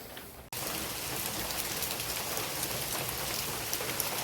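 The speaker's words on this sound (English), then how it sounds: "So yeah, that's the sound of rain." Rain falling outside a workshop, cutting in abruptly after a brief quiet moment and then holding as a dense, steady hiss of drops striking surfaces, close and continuous with no talking.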